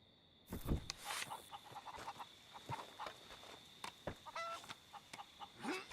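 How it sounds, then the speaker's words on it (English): Chickens on a farmstead in the Red Dead video game, with repeated short honking clucks and squawks scattered over several seconds at moderate distance, set against quiet ambient background and no voices. "Looks like the chickens."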